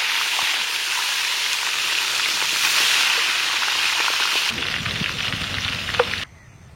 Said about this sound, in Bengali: ভাই মাছের মাথা ভাইজে নিলাম।